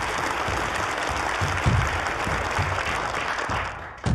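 An audience at a debate competition claps in a dense, continuous burst of applause that holds steady for a few seconds before cutting off abruptly.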